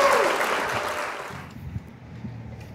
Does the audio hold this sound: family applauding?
yes